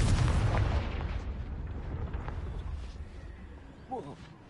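A blast from the Confringo spell in a Hogwarts video game, a heavy booming explosion up front that decays into a long rumble, with a brief voice-like sound near the end.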